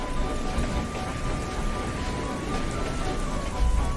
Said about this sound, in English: it's the episode where Percy had to go through the rain